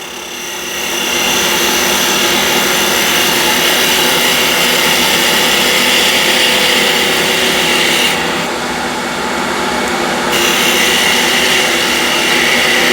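Skew gouge shearing wood on a lathe while turning an all-wood salt shaker, a loud continuous hissing scrape with a steady motor drone underneath, close and unbroken for the whole stretch.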